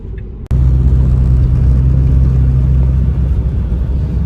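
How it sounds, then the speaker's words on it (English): A Toyota GR86 sports car engine starts abruptly and then holds a loud, steady low rumble as the car drives, close and continuous. "So this is a Toyota GRD6, which is similar to the BRZ, and this is a fun fucking car."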